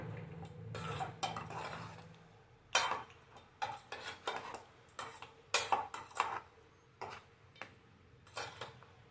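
A spoon scrapes and clinks against a metal pot while stirring cooked rice mixed with squeezed lemon juice for tempered lemon rice, in a dozen or so irregular, close strokes with no talking.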